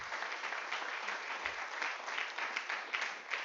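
Steady, dense applause fills a church congregation's worship service, many hands clapping together at an even level throughout with no speech over it.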